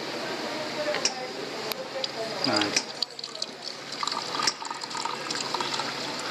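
Water running from a tea dispenser in a Japanese bathhouse, a continuous splashing and filling sound at moderate level with a few clicks and clatters, while someone talks over it.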